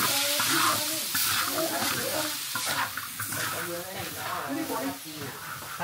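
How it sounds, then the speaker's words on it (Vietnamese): Beef stir-fries in a pan over a strong fire outdoors in a rocky desert camp kitchen, giving a loud continuous sizzle and hiss with stirring scrapes while people talk over it. "cho thịt bò vào xào."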